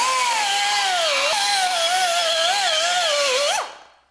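A power tool deburring drilled rosette holes on a Shovelhead/Panhead motorcycle hardtail frame, a loud, close, high-pitched whine that wavers slightly in pitch as it cuts, then spins down abruptly at the end.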